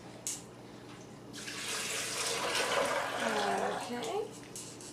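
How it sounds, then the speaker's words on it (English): Water pours steadily from a container onto soaked almonds in a blender jar, a rushing splash that builds and gurgles for several seconds, close and fairly loud. "And then we're going to add our water."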